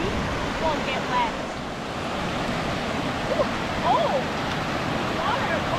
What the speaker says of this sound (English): so that when we go across the creek, we won't get wet